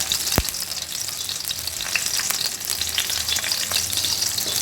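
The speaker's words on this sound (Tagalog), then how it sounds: "gisa na tayo ng bawang. Tayo lang natin mag brown siya." Garlic sautéing in oil for a Filipino chicken arroz caldo, a steady close sizzle and crackle with a few sharp spatters and light stirring, no voices.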